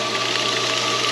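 A farm well pump in a well house starts up and runs steadily, giving a close, continuous motor hum with a mechanical knock and vibration under it.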